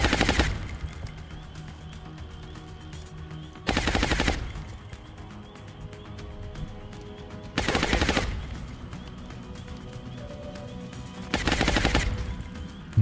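Weapons in XCOM Long War fire in four loud, brief bursts of rapid gunfire, spaced roughly every four seconds, with quieter game ambience between volleys.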